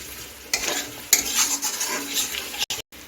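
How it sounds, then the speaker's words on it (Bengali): Sliced tomato being sautéed in a pan for Bengali cabbage ghonto, with steady frying sizzle and scraping spatula strokes in irregular bursts, close and moderately loud, ending in brief dropouts. "এখন টমেটোকে দিয়ে আমি কিছুক্ষণ একটু কষিয়ে নিচ্ছি"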